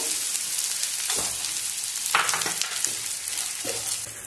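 Edible gum fries in ghee in a pan, a constant close crackling sizzle with occasional stirring scrapes and no voices.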